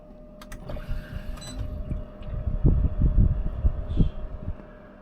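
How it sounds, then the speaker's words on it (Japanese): A car air conditioner starts up: a few clicks, then a low mechanical whirring and rumbling that builds and fluctuates, near and moderately loud, with no speech. "エアコンをつけます。"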